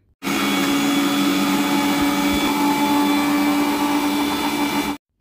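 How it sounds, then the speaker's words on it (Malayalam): A mixer grinder blends chopped beetroot, a loud, steady motor whir with a churning roar that starts abruptly, holds evenly for about five seconds, then cuts off. "ഈ ബീട്രൂട്ട് മാത്രം മിക്സിയിലിട്ടൊന്ന് അടിച്ചെടുക്കുകയാണ്"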